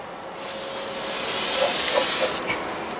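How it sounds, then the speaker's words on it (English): A single steady hiss from an aerosol can of silicone spray lubricant for about two seconds, close and fairly loud, with faint clicks around it. "we recommend you guys to use a Teflon spray wax or some silicone. We're gonna show you how we spray it."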